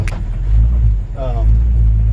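A 1957 Chevrolet 3200 pickup rumbles loud and close at low idle while being put in reverse, with a brief whine rising midway over the steady engine drone.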